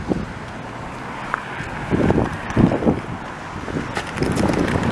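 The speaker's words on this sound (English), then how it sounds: "I think there would be a little bit less wind on the other side" Wind buffets a microphone on a downtown Montreal street, Boulevard de Maisonneuve, in winter, with uneven gusty rumbling and bursts that grow louder toward the end.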